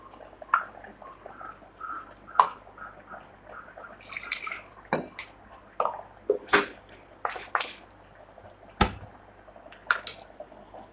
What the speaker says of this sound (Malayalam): അതിലേക്ക് ഈ നാളികേരവും ജീരകവും വറ്റൽമുളകും കൂടി അരച്ചത് ഒഴിച്ചു കൊടുക്കാം.